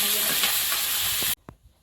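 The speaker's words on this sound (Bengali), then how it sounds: "মাছগুলো সব ভাজা হয়ে গেছে" Fish fry in oil in a wok with a loud, close sizzle and stirring scrapes, which cut off abruptly into near silence with a brief knock.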